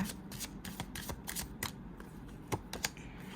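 Tarot cards being shuffled and drawn by hand, with a quick run of papery riffles and light slaps repeating close and clear, with no talking.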